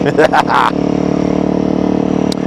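A Honda CRF300L motorcycle fitted with a Yoshimura full exhaust drones steadily under a roll-on of throttle, a loud continuous engine note with a voice talking over its opening moments.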